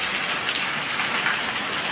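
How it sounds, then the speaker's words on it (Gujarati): Heavy monsoon rain pours down in a Gujarat village, a steady, dense hiss of drops striking the ground and roofs, even and continuous throughout with no voices. "જતા દંદુડા પડે એવો વરસાદ આવે છે."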